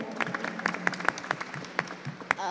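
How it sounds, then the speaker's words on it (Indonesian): Press conference audience at a Summer Fights weigh-in applauding with steady, moderately close clapping, individual claps standing out over a murmur of voices. "Tepuk tangannya dong untuk Bang Marcos"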